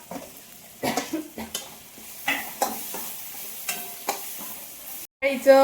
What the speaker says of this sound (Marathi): शेवभाजीचा मसाला परतून घ्यावा ते एकदा.